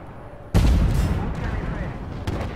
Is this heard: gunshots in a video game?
yes